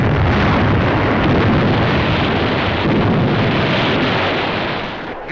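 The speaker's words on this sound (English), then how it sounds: "Batteries and the heavy guns of the French battleship Jean Bart and several cruisers, destroyers, and gunboats put out a devastating fire." Heavy naval gunfire from the French battleship Jean Bart with cruisers, destroyers and gunboats in a 1944 wartime documentary, a loud continuous roar of booming blasts with a dense rumble that fades slightly at the end.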